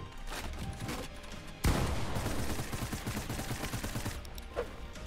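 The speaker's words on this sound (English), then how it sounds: "Someone's shooting down from below." Gunfire rattles up from below in a battle royale video game set on a cruise ship, a dense, steady spray of shots with a sharper burst partway through, moderately loud and continuous with no voices over it.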